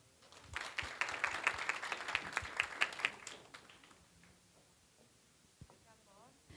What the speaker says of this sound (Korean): 스마트가전혁신지원센터 최철주 박사님께 멋진 박수 부탁드리겠습니다